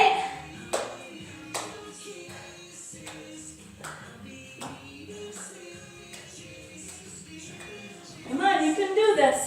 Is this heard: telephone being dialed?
no